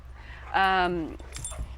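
A single short dog bark or yelp, fairly close, with a rising then falling pitch, followed by faint rustling.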